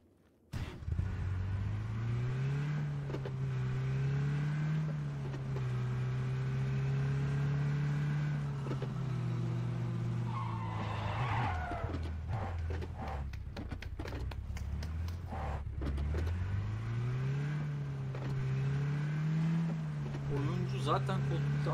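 In the PUBG video game, a car engine drones steadily for over twenty seconds, rising and falling in pitch as it is driven, with bumps and clatter over rough ground and faint voices talking over it.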